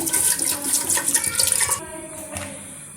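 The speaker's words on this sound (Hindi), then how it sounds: "बीफ कढ़ाई में बना रही हूँ कुकर में। इसमें तकरीबन 1 गिलास पानी शामिल करेंगे" Water pours steadily into a metal pressure cooker with a bright splashing rush, then stops abruptly, leaving a faint drip and clink.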